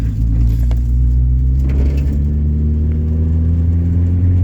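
A turbocharged Nissan 240SX fitted with an RB engine drives along, giving a steady, loud, low engine drone with a constant rumbling hum throughout and no voices.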